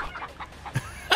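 A chicken clucks in the video game Moving Out, sounding as a few short, close, bright clucking calls, with a sharper squawk at the end.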